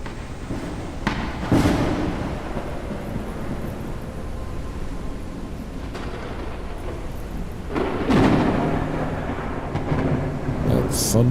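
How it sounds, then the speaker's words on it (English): Loud thunder rolls through a stormy scene in the video game Forever Skies, with a sustained rumble swelling into sharper cracks near the start and again toward the end. "That thunder is loud."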